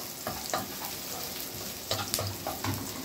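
Onion softens in a pan with no oil for Egyptian bessara, giving a steady close sizzle with a few soft stirring scrapes over a few seconds.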